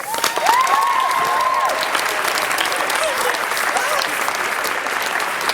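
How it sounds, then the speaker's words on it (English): An audience applauds after a musical stage performance of A Christmas Carol, dense sustained clapping heard close and loud, with a whistle or cheer rising above it early on and voices mixed in. "Let's have more round of applause for them."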